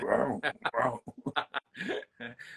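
A small female stray dog barks in short, gruff bursts, several quick woofs and yips in an irregular series, close by, with people talking over and between them.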